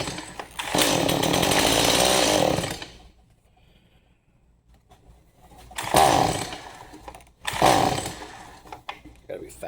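Stihl MS 180 C chainsaw with old fuel, its small engine sputtering to life in loud revving bursts, dying into a near-silent gap, then catching again in two more short roaring runs up close.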